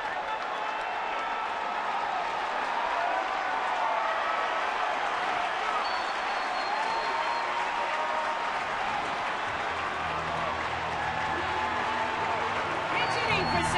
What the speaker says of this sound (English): listen to the crowd when they see this guy come out